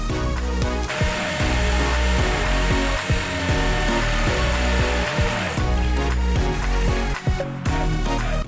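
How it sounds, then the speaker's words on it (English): A loud, continuous rattling hammer drill with a masonry bit grinding steadily into a concrete wall, with rapid mechanical pulsing and no talking. "Then set my drill to hammer mode and switch to a masonry drill bit."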